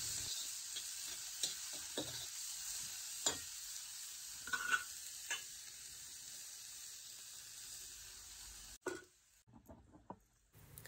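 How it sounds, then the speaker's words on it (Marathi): Chopped onion with a little coriander sautés in oil on a wood-fired stove, giving a soft, fairly faint sizzle with intermittent stirring taps and an abrupt break in the sound near the end. "आता ही कांदा आपल्याला व्यवस्थित परतून घ्यायचा आहे."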